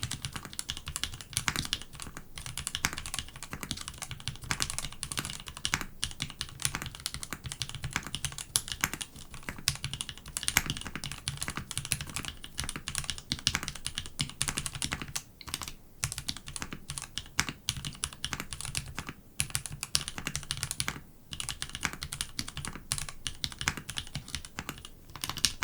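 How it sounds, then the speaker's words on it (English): Fast, continuous typing on a Melgeek Mojo68 mechanical keyboard during a typing test, with dense, close-up key clacks that run steadily without pause and no talking. "And let's just try a quick typing test."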